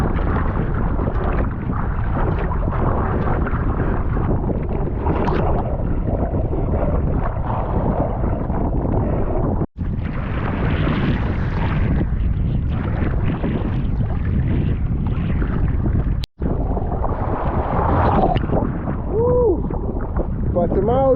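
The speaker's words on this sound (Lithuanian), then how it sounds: "Nu, vėjas pakankamai stiprus" Strong wind roars and buffets the microphone on a boat crossing the Curonian Lagoon between Nida and Klaipėda, loud and continuous with water noise, cut by two brief dropouts, and voices talk underneath.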